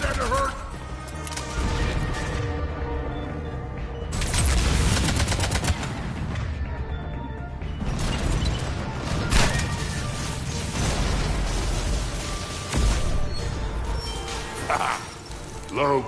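Mech combat in Mass Effect 3 with mechs blowing up: dense, continuous gunfire, mechanical clanking and repeated heavy bursts and crashes over about sixteen seconds, loud and layered throughout.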